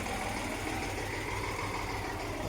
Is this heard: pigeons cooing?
no